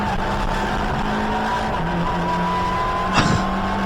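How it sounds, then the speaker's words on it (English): A race car at Donington drives wide out of the chicane, its engine droning steadily with rising and falling pitch, followed by a brief sharp tyre scrub near the end. "Another car going wide coming out of the chicane that time."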